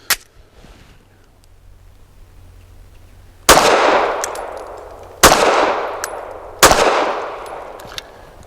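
A Sig P365 Fuse pistol fires PPU Defense Line 147 grain hollow points: three sharp, loud shots with ringing decay, spaced a couple of seconds apart after a quieter lead-in with an earlier faint crack.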